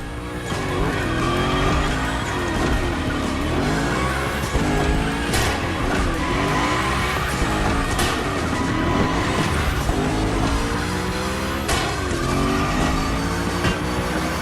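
Hoonigan rally car sliding through gymkhana training in a video game, engine roaring steadily with repeated tire squeals and skids across a continuous loud run.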